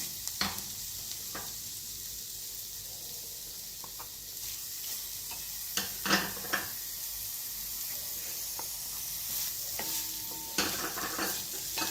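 Capsicum stir-fried in a pan for dragon chicken: a continuous close sizzle with intermittent scraping stirs and clatter against the pan, no voices.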